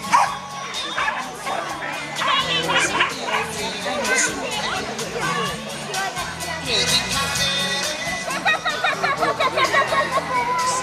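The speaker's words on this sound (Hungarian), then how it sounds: "Ő egy pumi, 2 éves, és 2 éve egyenítőzik, űzi ezt a sportot" At a village fair agility event, a two-year-old pumi runs the course while a busy crowd chatters and repeated yips and barks ring out over the noise.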